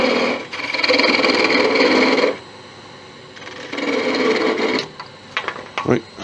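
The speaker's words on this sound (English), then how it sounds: "all I want to do is cut it off," Wood lathe parting tool cutting off a turned wooden pizza wheel piece: a loud, steady rasping scrape for about two seconds, a pause, then a second shorter cutting burst followed by a few knocks and clatters.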